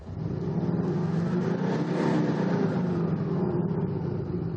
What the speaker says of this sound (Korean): 제가 악셀을 밟아보면은